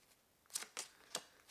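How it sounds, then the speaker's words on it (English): A tarot card deck being riffle-shuffled, three quick crisp bursts of cards spaced a fraction of a second apart, close and fairly quiet with no talk. "they just shuffle so nice"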